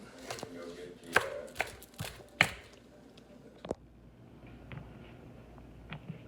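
A knife chops fresh chives on a board in a few sharp, irregular taps and scrapes, close and fairly quiet, with a voice speaking alongside.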